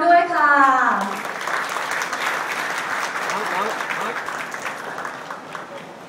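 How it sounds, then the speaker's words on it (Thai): Loud crowd applause at a Thai Premier League club signing event with Leicester breaks out after a brief voice, a dense wash of clapping that slowly fades toward the end. "ขอเสียงปรบมือดังๆ ด้วยค่ะ"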